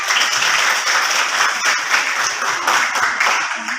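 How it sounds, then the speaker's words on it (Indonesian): Steady applause from a classroom group, dense clapping that holds at an even, loud level for the whole stretch. "kita kasih tepuk tangan"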